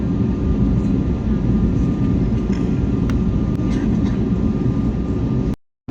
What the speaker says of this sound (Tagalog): Ayun guys, magte-take off na yung aeroplano.